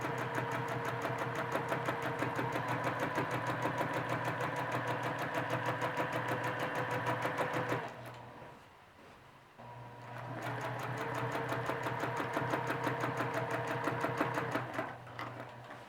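A sewing machine stitches down a stem in fast, steady, close-up runs, pausing for about two seconds midway before the rapid stitching resumes.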